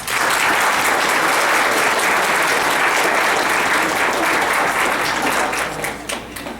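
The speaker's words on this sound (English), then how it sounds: "Please give yourself a round of applause" Cadets and guests at a Prescott JROTC military ball in January 2016 clap loudly for their unit's award record. The dense, even applause holds strong, then thins slightly at the end.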